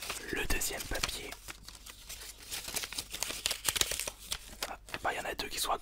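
Paper crinkles and rustles close by in irregular bursts, with soft speech underneath.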